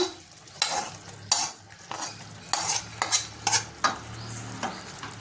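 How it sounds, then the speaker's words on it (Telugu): A spoon stirs fried capsicum and potato into a bubbling tomato curry in a pan, with repeated scraping strokes over a steady low sizzle of oil, close and moderately loud, with no talking. "ఇందులో వేసుకొని కలుపుకొని ఒక 2 నిమిషాలు ఉంచుకుందాం."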